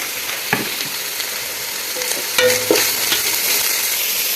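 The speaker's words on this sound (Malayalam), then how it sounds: "അപ്പോൾ നമ്മൾ ഉള്ളിട്ടിട്ട് ഇവിടെ വയറ്റി വെക്കണം" Onions sauté in a pan with a steady sizzle, broken by a few sharp clanks and scrapes of a utensil stirring against the metal.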